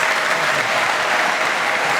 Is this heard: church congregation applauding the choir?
yes